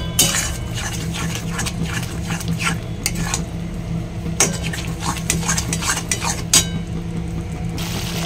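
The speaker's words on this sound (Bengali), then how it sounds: "ভালো করে একটু নেড়ে নিই" A spoon scrapes and clatters against a pot as prawn biryani masala is stirred, with a steady rhythm of metallic knocks over a low background hum and no talking.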